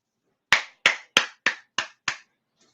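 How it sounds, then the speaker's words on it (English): Six sharp, evenly spaced hand claps ring out alone in a quiet room, each crisp and close, followed by a faint seventh. "You know why I'm clapping?"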